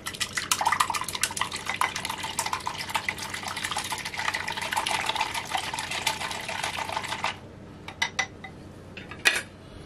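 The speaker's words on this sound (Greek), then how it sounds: "Ανακατεύουμε." An egg beaten with a little water in a bowl for a ham, bacon and cheese pie, giving a steady rapid clatter of a utensil against the dish that stops partway, followed by a few sparse clinks.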